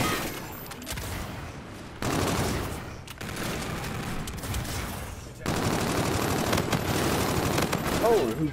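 Rapid bursts of Type 2 gunfire in a first-person shooter game, sustained and loud with dense overlapping shots and brief gaps, under intermittent game chatter.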